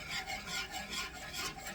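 Whisk scraping steadily through a tomato-cream sauce in a pot that held fish earlier, making a fast, repeated rasping stir at close range, fairly soft, with no voices.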